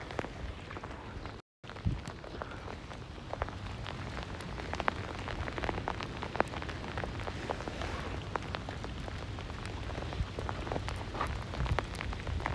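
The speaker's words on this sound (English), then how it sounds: "Some of the sleet is partly frozen, some of it is fully frozen. And there's also some raindrops mixed in" Sleet pellets and raindrops fall during a storm in New York City, a dense steady patter and hiss of partly and fully frozen pellets striking surfaces nearby, continuous and fairly loud with scattered sharper ticks and no talking.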